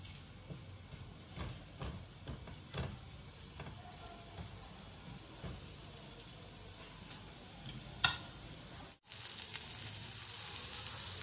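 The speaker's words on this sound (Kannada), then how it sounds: "ಫಸ್ಟಿಗೆ ಈರುಳ್ಳಿ ಒಂದು ಹಾಕಿ ಹುರ್ಕೊಳ್ಳೋಣ." Onion frying in oil in a pan for a ridge gourd chutney, a faint steady sizzle with scattered stirring clicks and scrapes, close by, no voices.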